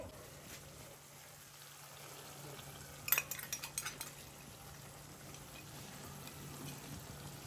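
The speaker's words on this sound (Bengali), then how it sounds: "ভালো করে আমি হলুদটা দিয়ে কষাচ্ছি" Turmeric and spices fry in oil as a spoon stirs them around a pan. A soft, low sizzle runs throughout, broken midway by a short run of metallic scraping clinks.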